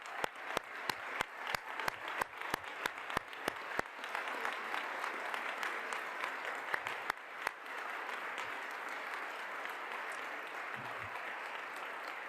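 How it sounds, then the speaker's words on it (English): A crowd applauds steadily, with a few distinct loud claps at the start before the clapping blends into a sustained wash that fades slowly. "So again, big round of applause."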